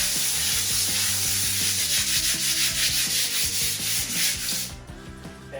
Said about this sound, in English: The area good sand with some sandpaper.